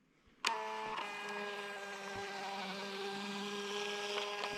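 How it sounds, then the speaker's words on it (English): A Fomemo Bluetooth label printer starts up abruptly after a moment of quiet, then runs a steady, close mechanical whine with a faint ticking as the labels feed out. "they're going to print through this Fomemo Bluetooth printer"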